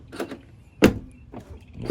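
A Tesla car door with a wire harness fault being tested: a few short mechanical clunks and latch sounds, one sharp thud standing out, close by and separated by quiet gaps.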